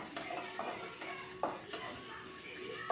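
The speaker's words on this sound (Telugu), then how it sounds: "పోపు బాగా వేగాక రుబ్బిన ముద్ద ఇందులో కలిపేస్తాను" A spoon scrapes and stirs ground yam paste into hot oil tempering seasoned with asafoetida for yam and gongura chutney, several distinct scraping strokes over a soft, steady sizzle.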